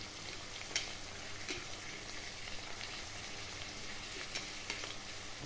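Ground spices, ginger-garlic, tomato, green chilli and capsicum for chana masala frying in a pan, a soft even sizzle with a few faint stirring knocks, quiet and without talking.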